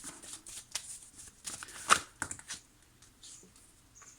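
Tarot cards handled and laid over during a reading, giving soft close shuffling and sliding card sounds in irregular brushes and taps, heard alone and fairly quiet.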